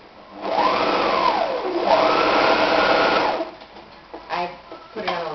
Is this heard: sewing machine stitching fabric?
yes